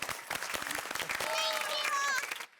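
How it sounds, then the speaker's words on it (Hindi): A group at a fitness camp gives a brief burst of clapping, scattered hand claps near the start giving way to cheering voices and chatter. "जोरदार तालियां दीजिए अपने लिए।"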